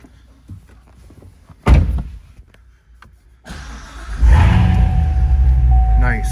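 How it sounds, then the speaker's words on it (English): A 2019 Corvette Z06 3LZ with a seven-speed manual: a car door thuds shut, then after a short pause the engine cranks and fires into a loud, deep roar that settles into a heavy rumble. "let's get in and fire this one up"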